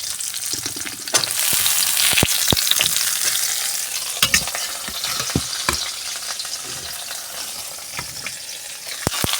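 Onion fries in a pan for a spinach palya, with a loud, continuous sizzle close by and frequent sharp clacks and scrapes of stirring throughout, no voices.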